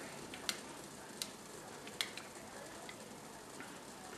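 Faint, close stirring of old dark honey with a spoon in a pan over simmering water: a few soft ticks and taps against a low, even hiss, with no voices.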